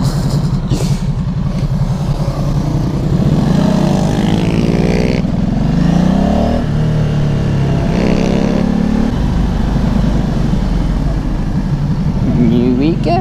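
A large group of motorcycles rides past in a steady stream, engines droning and revving loudly and close by for the whole stretch, with some voices mixed in.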